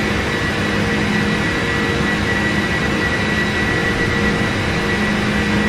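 Boeing 747 jet engines drone steadily during a climb in the PMDG flight simulator, a loud, continuous broadband roar with a low hum and no talking.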